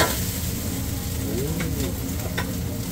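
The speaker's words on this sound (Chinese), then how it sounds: "这样子炒一炒就差不多了" Food stir-fried in a wok at a Cantonese congee stall in a Taipei market food court, a steady loud sizzle with scraping stirs and a few clanks, while someone speaks briefly.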